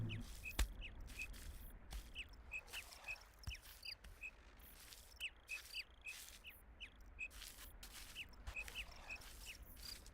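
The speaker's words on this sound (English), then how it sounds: "Hello, bird." Game bird squawking in a video game, short bright calls repeating steadily over a busy ambient game backdrop at moderate level, no talking.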